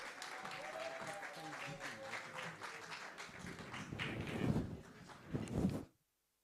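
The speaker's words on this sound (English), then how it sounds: "MD, Mr. Stephen Goveni, let's give him a very big round of applause." Loud, sustained applause from an audience at the launch of a campus and school public safety research chair, swelling toward the end before stopping abruptly.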